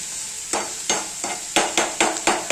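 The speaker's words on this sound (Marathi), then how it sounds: "कांदा बघा ब्राऊन कलर होईपर्यंत भाजत आलेला आहे" Onions fry in a pan until brown while a spatula scrapes through them in quick, regular strokes over a steady sizzle.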